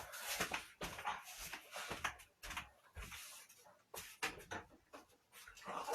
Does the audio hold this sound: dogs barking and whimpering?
yes